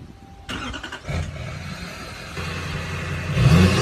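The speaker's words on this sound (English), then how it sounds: "get a buddy to start your truck." A truck engine cranks and catches with a corn cob stuffed into its air intake, a sudden loud start followed by a steady running rumble that swells again near the end, with no talk.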